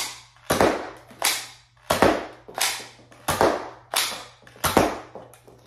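A smart-ar toy pistol fires its quad drop, giving a sharp series of about eight snapping cap-gun-like shots at a fairly even, quick rhythm, each crack decaying briefly before the next, close and clear with no talk.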